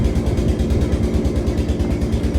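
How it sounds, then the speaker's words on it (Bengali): A motor boat's engine throbs steadily as it pulls away from Lebukhali ghat at the meeting of three rivers near the Sundarbans, a loud, close, evenly pulsing low drone with no voices. "দেখুন এই যে লেবুখালী ঘাটটা ছেড়ে দিল নৌকাটা"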